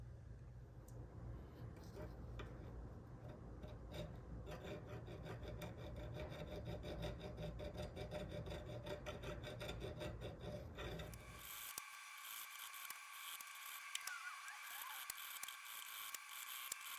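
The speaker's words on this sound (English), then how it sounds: "we're just gonna file down those two rear nubs over here" A file rasps down the two rear nubs on a Glock 43X MOS slide while fitting a Holosun 507K optic without a plate. Steady, repeated close strokes run throughout, and the scrape turns brighter and thinner for the last few seconds.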